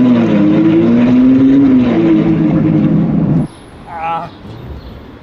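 A Ferrari 812 sports car at Wörthersee revs loudly for about three and a half seconds with a rising, strained engine howl, then cuts off to a quieter background with a brief distant whine.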